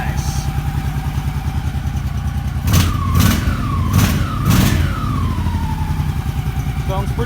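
A Honda Shadow 1100 motorcycle engine idles steadily after a carburetor rebuild, its low rumble constant throughout, with three or four sharp throttle blips in the middle that rise and fall in pitch.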